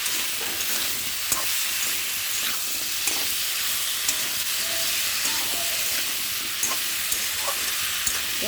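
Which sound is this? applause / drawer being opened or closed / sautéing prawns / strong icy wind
sautéing prawns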